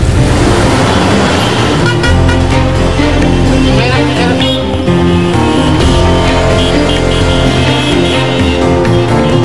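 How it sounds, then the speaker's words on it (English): Dense, loud street traffic in crowded Old Delhi, with a constant rumble of engines and honking horns that fill the whole clip, while a person talks over it. "Just complaining about the traffic."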